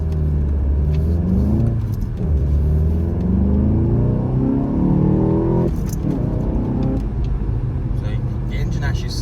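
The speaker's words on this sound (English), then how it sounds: "So the engine actually sounds really nice as well." A 2013 Volkswagen Golf GTI with a 2.0L engine and six-speed manual, heard from inside while driving: a steady engine rumble rising and falling in pitch through gear changes, close and constant, with a voice talking over it.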